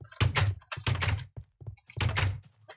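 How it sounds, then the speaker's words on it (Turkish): A wooden door in Minecraft banging shut repeatedly as a villager works it: three sharp, close thunks in uneven rhythm, each followed by a quieter knock, with short silences between and no voices. "Kendi suratına niye kapıyı kapatıyor?"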